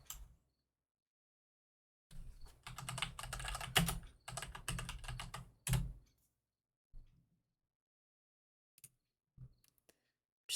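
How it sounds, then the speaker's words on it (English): Bursts of computer keyboard typing in a video game setting, a dense run of keystrokes over a few seconds followed by scattered single taps, close and moderately loud. "Just typing in Sequoia emblem."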